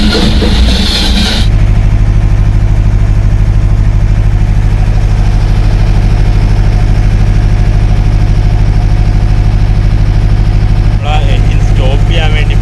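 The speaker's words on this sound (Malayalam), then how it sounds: "അതാ നമ്മൾ എൻജിൻ സ്റ്റാർട്ട് ചെയ്യാനായിട്ട് പോവുകയാണ്" A generator engine cranks and catches, then settles into a loud, steady, close idling hum with a low pulsing throb for several seconds, with brief talking at the start and again near the end.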